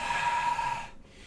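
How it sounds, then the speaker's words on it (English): A deep, breathy exhale during a guided yoga stretch, close and steady for nearly a second before fading into quiet room tone. "Work with your breath and coming back up"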